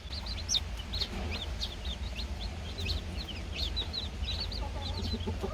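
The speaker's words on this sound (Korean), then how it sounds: "노란 병아리가 재롱을 떨어요" Newly hatched yellow chicks cheep in repeated high, quick peeps throughout, close by over a steady low background hum.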